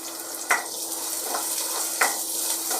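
Washed urad dal sizzles softly in hot oil in a pan for upma, a steady gentle frying hiss with two brief spoon scrapes against the pan.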